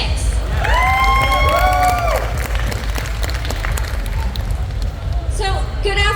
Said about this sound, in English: a round of applause for Six